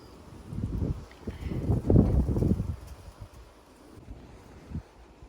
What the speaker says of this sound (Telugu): బాగా గాలి ఇంకా వర్షం స్టార్ట్ అయింది